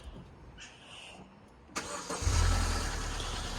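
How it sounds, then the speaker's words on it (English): A Vauxhall Corsa engine cranks briefly and catches, then settles into a loud, steady idle with a cold-start rattle. The sound is close up, with no talking. "If I start it up, it does have the typical rattle first thing on the morning"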